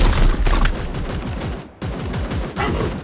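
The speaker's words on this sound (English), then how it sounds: "Opening fire." Rapid gunfire in the game Warhammer 40k Chaos Gate Daemonhunters, a loud, steady stream of closely spaced shots with a brief break in the middle before the burst resumes.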